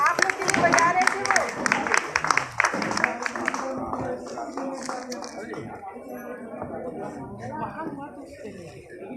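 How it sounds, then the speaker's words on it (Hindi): An elderly audience at an old age home in Sarnath, Varanasi claps in a burst of applause that thins out after a few seconds, with someone talking over and after it. "माताएं बाबूजी के लिए भी तालियां बजाए"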